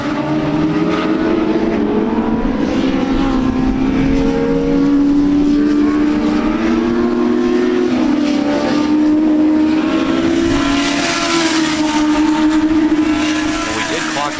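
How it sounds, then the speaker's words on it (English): Race cars roaring down the front straightaway at Rockingham Speedway at roughly 98 to 99 mph, a loud sustained engine drone with shifting pitch as cars pass close, continuous from start to finish. "we did clock the cars down at the end of this front straightaway, about 98 to 99 miles an hour"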